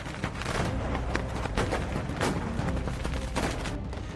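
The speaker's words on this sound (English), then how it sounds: "Footage shows protesters launching fireworks, smoke bombs, and flares at police" Firecrackers and fireworks burst in rapid, irregular bangs as rioters launch them at police during street clashes in Milan, several loud sharp reports over a constant roar of crowd and street noise.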